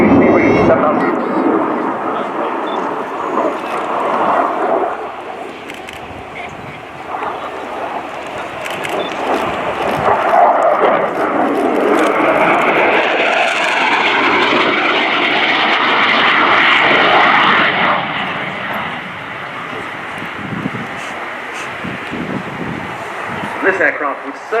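A MiG-29 Fulcrum jet fighter making a high-speed pass at an air show, with a roaring engine rush that builds and swells over a long stretch before easing off, while a commentator talks over it.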